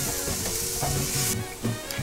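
A brown sugar mixture is stirred in a pan, giving soft scraping strokes over a steady sizzling hiss at close range, with no voices.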